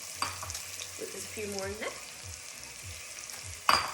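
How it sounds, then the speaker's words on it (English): Spices and onions sizzle in hot oil in a pan for a vegetable keema, a steady close frying hiss with stirring scrapes and a few sharper clatters, while a person speaks briefly over it. "the spices are nice and sizzling with my oil, and now the onions have gone in."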